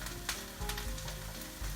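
Hash browns fry in a pan, giving off a loud, continuous crackling sizzle close up, with a few soft knocks underneath and no voices.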